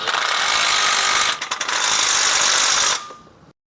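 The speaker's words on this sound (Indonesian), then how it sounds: "Kencengin baut bell housing yang bagian bawah." Continuous metallic ratcheting of a wrench or power tool tightening the lower bell housing bolts on a Nissan HR15DE engine during a rebuild, steady and close, with a brief stutter midway before cutting off.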